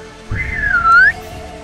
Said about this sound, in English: just whistle into that guy's ear.